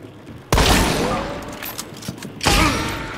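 Shotgun blasts in a team shooter video game, a loud sudden report followed by a decaying rumble, then a second blast about two seconds later, with faint voices underneath.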